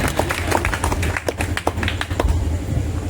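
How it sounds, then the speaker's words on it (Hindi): At a village satsang gathering, a crowd gives a round of loud clapping, a busy burst of hand claps over a low steady hum, thinning out toward the end. "राम संजीवन भैया के लिए एक बार जोरदार ताली स्वागत हो जाए।"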